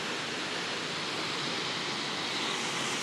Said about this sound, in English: This bridge was never intended to have this much water underneath it.